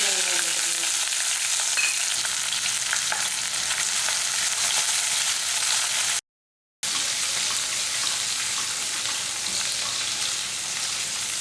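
Cumin, garlic, green chilies and shallots sauté in a pan with a loud, steady close sizzle, briefly cut to silence midway before resuming unchanged.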